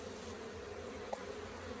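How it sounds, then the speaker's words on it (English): Honeybees crowd a brood frame during a winter hive cleanup, giving a low, steady drone that hums continuously close by with one faint brief click partway through. "I've got bees covering it."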